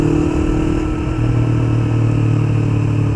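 Steady, loud engine drone of a 2016 Yamaha MT-25 motorcycle during a test ride, holding a constant rumble with a slight change in pitch partway through.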